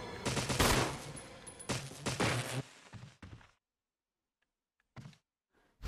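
Rapid bursts of gunfire in the Resident Evil video game, with Jill's weapon firing dense volleys for about three seconds, then brief isolated shots after a pause.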